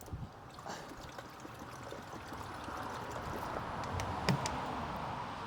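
Water from a bottle trickles and pours steadily into a kettle for a single cup at an off-grid home, a continuous close splashing stream running for several seconds.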